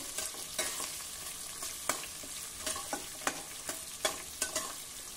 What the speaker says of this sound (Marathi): आता हे जरा मऊ होईपर्यंत आपल्याला परतायचं आहे.